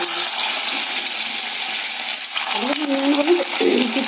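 Paneer pieces frying in hot oil in a kadai, a dense continuous sizzle close up, with a brief dip and then bubbling, spattering bursts as more pieces go in; no talking.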